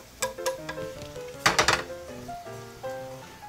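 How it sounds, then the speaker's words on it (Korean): Garlic and ginger fry slowly over low heat in oil tilted to one side of a pan, a soft steady sizzle broken by crackling pops and light utensil clinks, close with no talk. "천천히 튀기듯이 마늘 생강을 볶아주시면 돼요"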